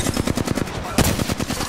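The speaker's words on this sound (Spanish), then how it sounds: "Disparando." Rapid automatic gunfire rattles in an Apex Legends match, a fast, even burst of loud, close shots with a brief heavier blast midway.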